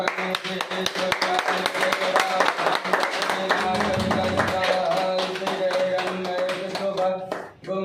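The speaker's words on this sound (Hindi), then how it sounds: "तालियां।" Guests clap at a grand corporate logo launch event in India, crisp, closely spaced hand claps heard over steady tonal music, the clapping continuing for several seconds before fading near the end.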